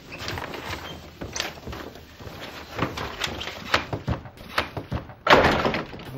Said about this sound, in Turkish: Kapı.